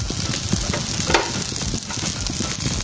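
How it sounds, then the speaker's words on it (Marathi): Bell peppers fry in hot oil in a pan for a vegetarian burrito bowl, giving a continuous, close, even sizzle with a few small crackles and pops. "तेल तापल्यानंतर त्यामध्ये बेल पेपर्स"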